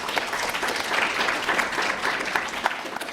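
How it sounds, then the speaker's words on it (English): Applause rises from an audience at a summit, a dense steady patter of many hands clapping throughout, fairly close and without speech over it. "Let's give him a round of applause."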